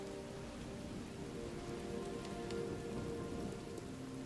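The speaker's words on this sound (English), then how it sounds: "Oh, now it's raining." Steady rain in the video game Hytale patters densely on a surface, a soft continuous hiss of drops at moderate distance with no voices.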